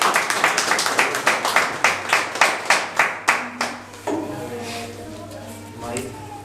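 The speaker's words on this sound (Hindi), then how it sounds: "एक बार जोरदार तालियां भाई के लिए।" Audience at a Hindi poetry reading clapping for a poet, about fourteen sharp, evenly spaced claps that slow and thin out, then give way to low murmuring voices and stray handling noises.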